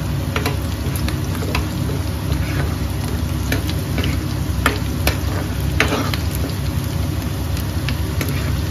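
Onions or spices frying for an Assamese crab curry, with a steady loud sizzle and repeated scraping stir strokes of a spatula in the pan, no talking.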